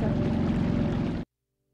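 A small outboard boat motor running on test at a sailing club, a steady close buzzing drone that holds evenly for about a second before cutting off abruptly into silence.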